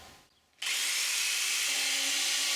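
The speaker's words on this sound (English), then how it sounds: "Come on, 40-year-old jigsaw, don't fail me now." An old 40-year-old jigsaw cuts 1/8 inch aluminum sheet, a loud steady buzzing whine that starts abruptly after a brief quiet moment and holds constant to the end.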